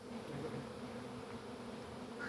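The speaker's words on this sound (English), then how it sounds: "big dark bee" A large dark bee buzzes steadily near a beehive during an inspection, its continuous droning hum close and even throughout, with no talking.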